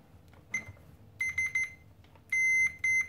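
A multimeter continuity tester beeps on a thermal fuse: a short chirp, then three quick beeps, then two long steady tones, loud and close over a quiet background.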